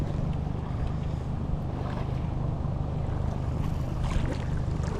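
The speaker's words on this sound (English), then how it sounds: "It is windy today." Wind blows across a lake near a fishing boat, a constant low rushing roar with some microphone buffeting and faint water slap, steady throughout.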